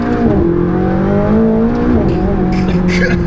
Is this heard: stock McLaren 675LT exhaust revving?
yes